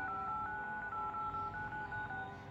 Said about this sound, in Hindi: तो फिर इस तरीके से आप अपने फ़ोन में डायल पैड साउंड ऑन करेंगे।